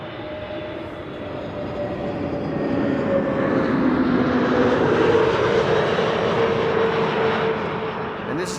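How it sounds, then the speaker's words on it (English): An EasyJet Airbus A320neo jet arriving from Bristol at Amsterdam Schiphol on a frosty day, its engine roar swelling steadily as it approaches, then holding loud and broad. "EasyJet A320neo and arriving from Bristol"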